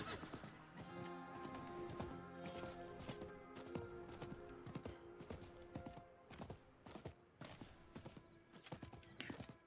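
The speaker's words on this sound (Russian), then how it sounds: "Да, все-таки с лошадью тут быстрее передвигаешься." A horse gallops in the video game Diablo 4, its hooves giving quick rhythmic clip-clops over a sustained music bed, with a brief whinny; the sound stays fairly quiet and steady throughout.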